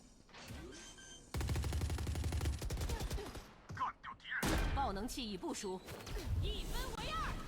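Automatic gunfire bursts from Valorant Mobile ranked play, loud rapid volleys in two dense stretches broken by short pauses, with excited voices talking over and between the shots.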